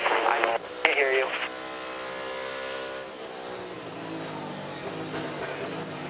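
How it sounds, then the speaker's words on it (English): In-car sound from NASCAR Cup Series race cars at Circuit of the Americas in the rain, engines revving hard and rising in pitch through a steady, loud roar. Race commentary runs over it at the start. "Listen to these in-cars of how they're ringing those engines out"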